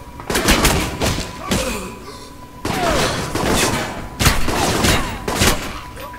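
Gunfire fills a round of the video game Alpha Protocol, with several loud bursts of shots and thuds separated by brief pauses.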